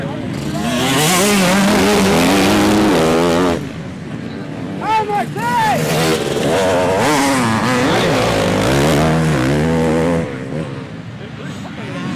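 Junior race cars at the opening round of the French championship at Gorges pass close by, with loud engines rising and falling in pitch over several seconds. Voices can be heard talking over the engine noise.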